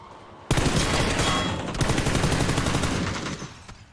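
Automatic gunfire in PUBG on the Miramar desert map, a loud close burst of rapid rattling shots starting abruptly and running for about three seconds before tapering off.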